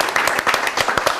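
Studio applause during a Torino football fan television broadcast, rendered as a brief burst of scattered claps that rise and fall over about a second, fairly close and moderately loud.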